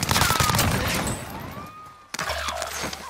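Rapid bursts of video game gunfire, dense and loud through the first two seconds, then a brief gap before a sharp crack and further shots with a low rumble beneath.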